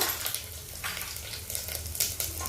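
Garlic sizzles gently in a pan, a soft steady crackle of frying with faint scattered pops, heard alone at low volume.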